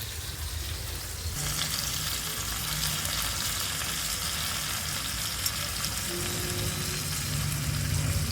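Fish and prawns fry in hot oil, a steady dense sizzle that flares louder after the first second and carries on continuously, close and with no talk over it.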